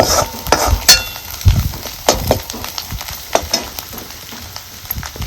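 Garlic and grated coconut roast in a pan for a village-style black bean aamti, giving a dry sizzle broken by scattered scrapes and clinks of a spoon, close and fairly loud, with no talk.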